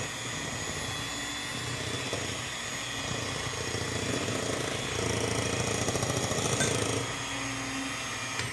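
An electric mixer runs at low speed through banana bread batter, giving a steady, even motor whir with a slightly rougher churning stretch partway through, with no talk.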